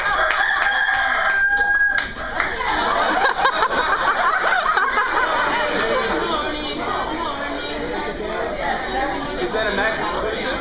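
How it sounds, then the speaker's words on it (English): A rooster crows at a karaoke event aboard the JoCo Cruise, its call standing out amid crowd chatter and laughter, loud and sustained over a busy room for several seconds. "Did everyone else just hear a rooster?"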